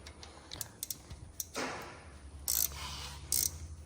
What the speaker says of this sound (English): Once you get this bolt tight, you go ahead and tighten up your bottom bolt here.